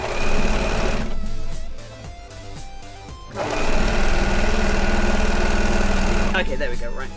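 An overlocker sewing machine runs in loud, close bursts of rapid mechanical whirring, with a short pause in the middle before it starts stitching again.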